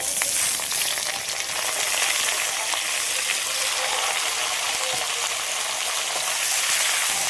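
Pumpkin greens added to a pan of frying potatoes with green chilies sizzle loudly and continuously with hot oil, a dense, close, steady hiss lasting throughout with faint stirring sounds.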